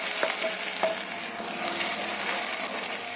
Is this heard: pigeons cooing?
no